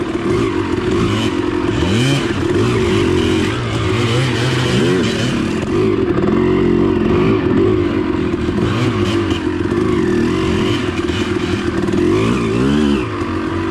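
A Rm250 dirt bike rides and drifts through mud, its engine loud and close from a rider-mounted view, revving and wavering continuously with clattering and scraping throughout.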